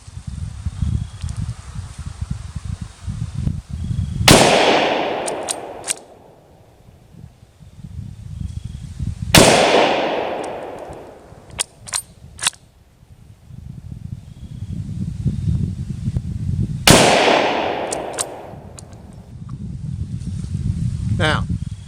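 Three loud rifle shots from a Kar98k German Mauser firing 8mm Mauser rounds, each a sharp crack with a decaying echo, spaced several seconds apart, followed by metallic bolt-working clicks between shots, with outdoor background rustle.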